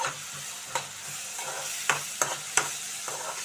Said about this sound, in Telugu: కొంచెం కొద్దిగా కరివేపాకు కూడా దీనిలో వేసుకుందాం అండి